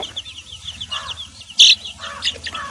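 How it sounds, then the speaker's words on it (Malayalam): Soft peeping and clucking from young country chickens nearby, in short scattered bursts, with one louder chirp standing out among them. "ഇതൊക്കെയാണ് നമ്മളെ കോഴിക്കുട്ടികൾ"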